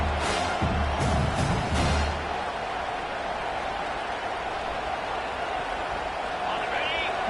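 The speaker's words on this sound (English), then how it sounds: "Listen to the crowd energy here in the early going." A dense, steady crowd roar fills a Michigan football stadium during the early going of a game, with a brief louder swell of voices near the start before settling into a constant, even wash of noise.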